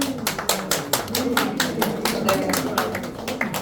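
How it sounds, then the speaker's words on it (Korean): Crowd at a Korean presidential campaign declaration-of-support event clapping in a fairly even, rhythmic pattern of distinct claps, close and moderately loud throughout. "여러분 큰 박수 부탁드리겠습니다"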